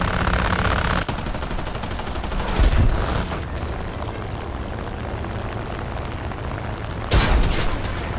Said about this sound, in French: il y a des canons de DSA qui me tirent dessus.